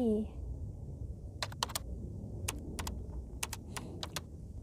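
A mobile phone's keyboard is tapped, producing several short, faint clicks in uneven bursts over a low background hum, with a brief voice at the start.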